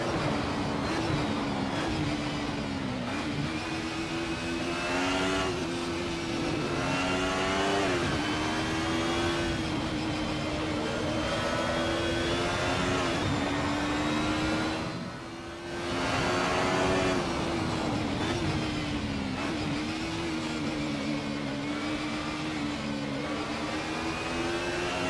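An Alfa Romeo 155 V6 TI racing car engine in Assetto Corsa, lapping Spa, drones loudly and steadily, rising and falling in pitch through gear changes with a brief dip midway.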